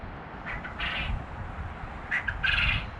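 Coturnix quail call in short bursts, two clusters of squawky chirps separated by a pause, moderately close over a steady outdoor background hiss.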